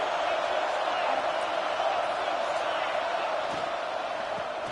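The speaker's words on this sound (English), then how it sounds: "It's early, but this crowd is fired up. Listen to this noise here." A stadium crowd roars steadily at a college football game between Clemson and LSU in a video game, a dense continuous wall of cheering with a commentator talking over it.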